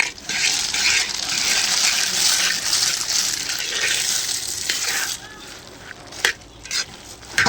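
Peanuts stirred into bubbling jaggery syrup for peanut chikki, giving a steady close bubbling sizzle with scraping stir strokes, easing into sparser sounds near the end.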